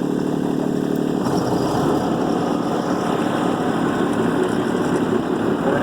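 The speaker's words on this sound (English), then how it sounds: "bring my PTO in, and then I'll bring the revs up" A Kubota B2650 compact tractor in low range with its PTO engaged to drive a mid-mount mower deck, the engine running loud and steady at close range and climbing slightly in revs partway through, with a constant drone and no talk.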